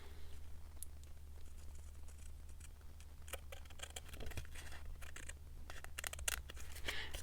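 Scissors snipping through a paper guest check, close and fairly soft, with irregular cuts that grow denser and crisper toward the end along with light paper crinkling.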